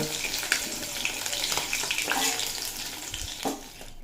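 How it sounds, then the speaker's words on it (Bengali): Fish frying in hot oil for a Bengali macher jhol, a dense, bright, crackling sizzle that holds steady throughout, with a few soft knocks from the pan. "একইভাবে বাকি মাছগুলো ভেজে নেব"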